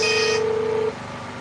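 A telephone gives an incoming-call tone, a steady electronic tone that holds for just under a second and then cuts out, leaving a low hum.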